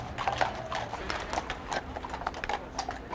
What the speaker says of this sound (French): 4 cavaliers de la brigade équestre sécurisent le festival.